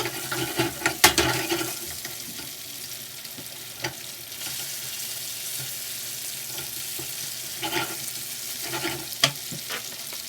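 Mushrooms and tofu stir-frying with chilies, garlic and ginger in a pan, a steady soft sizzle broken by a few sharper scraping stirs, close and moderately loud with no one talking.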